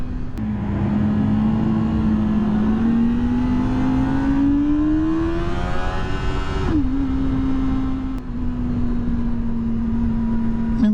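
A 2023 Kawasaki Ninja ZX-4RR engine drones steadily while riding, its pitch climbing slowly through the rev range before dipping on a gear change and settling into a loud, even cruise with no talking.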